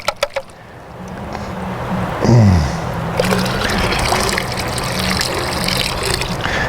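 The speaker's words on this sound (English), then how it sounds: "Just wash it all out in the bottom of the pan." Water sloshing and washing black sand out of the bottom of a gold pan, a steady close rush of liquid after a few sharp knocks, with a brief louder gush midway.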